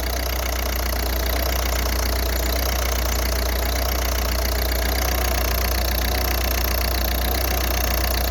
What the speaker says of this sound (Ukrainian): Зараз через трішки часу двигун має вирівнятися.